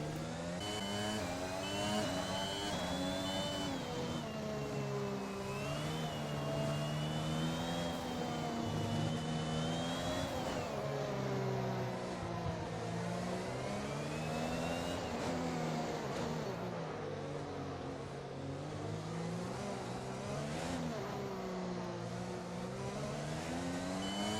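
A Formula 1 car engine in the F1 2021 racing game, having engine problems or some issue on lap 4, screams continuously for over twenty seconds. The pitch rises and falls through gear changes and the whine stays loud throughout.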